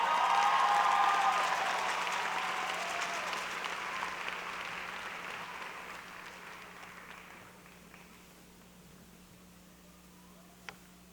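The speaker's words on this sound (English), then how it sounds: "Let's give her another round of applause, please." Audience applause at a 2015 high school graduation ceremony, a loud crowd of clapping that gradually fades and thins out toward silence, ending with a single faint click.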